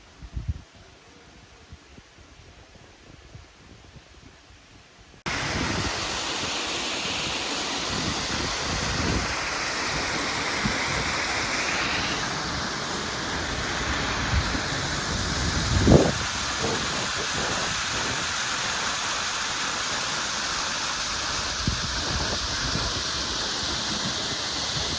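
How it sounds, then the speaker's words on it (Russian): Waterfall in the Rechenberg-Tobel nature reserve: after a quiet opening, a loud, steady rushing roar of falling water sets in abruptly and continues unbroken, heard close by. "водопад, который мы сейчас увидим"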